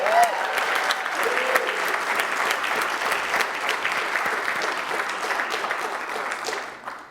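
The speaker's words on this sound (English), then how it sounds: "Can we give a round of applause for the graduating class of Justice Ambassadors?" Sustained applause from a large crowd at a graduation ceremony, steady clapping that holds for several seconds before tapering slightly at the end.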